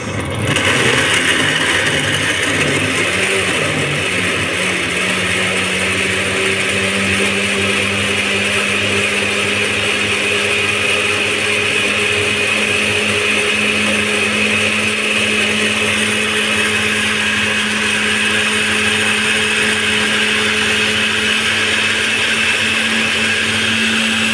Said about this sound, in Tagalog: mag-blender tayo ng tomato, onion, tsaka bell pepper, green bell pepper